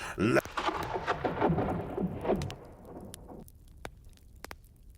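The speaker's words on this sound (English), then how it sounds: "A bolt of lightning flew by Furon, right into the throat of the Silver Knight." A lightning crack sounds close and sharp, then thunder rumbles over steady rain that pitters on a surface, the storm fading to scattered drops and crackles as a voice speaks quietly.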